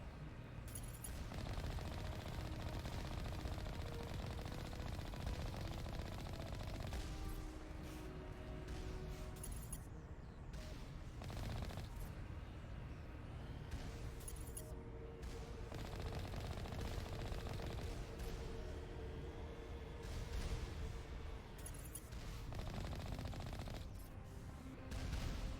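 Sustained automatic gunfire from turrets in the video game Mass Effect, a dense, loud stream of rapid shots with heavier bursts and crashes layered throughout, with no talking over it.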